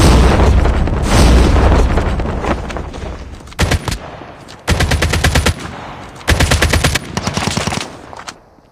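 AK47 gunfire in Call of Duty Mobile: a loud blast and rumble, then several rapid automatic bursts in quick succession, close and punchy with short gaps between them.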